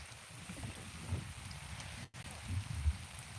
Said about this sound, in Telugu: ఇదిగో ఇక్కడ వర్షం అయితే వస్తుంది చూడండి ఫ్రెండ్స్ మొత్తం వర్షమే